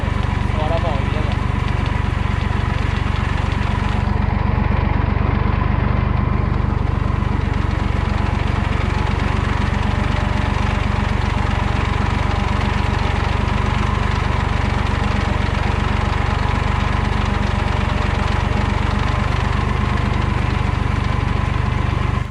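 A tractor engine runs steadily in a vineyard, a loud continuous mid-pitched drone with a vibrating rumble that holds throughout, with a person talking over it.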